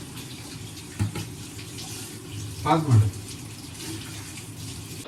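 Tap water runs steadily in a home kitchen while onion pulao is prepared, a constant hiss with a couple of brief clatters, as someone speaks over it.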